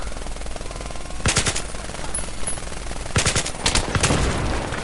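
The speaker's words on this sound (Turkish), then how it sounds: "Ben de diyorum 2 saattir kim sıkıyor?" Automatic weapon fire in the video game Battlefield 3: a short rapid burst, then a longer string of loud, closely spaced shots a couple of seconds later, with no talk.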